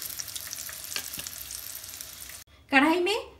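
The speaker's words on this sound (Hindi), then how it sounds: "आलू को फ्राई करने के लिए हमें कुल मिला के टाइम लगे हैं 5 से 7 मिनट" Potatoes frying in hot oil in a kadhai give a steady, close sizzle for over two seconds, then it cuts off and a voice briefly speaks.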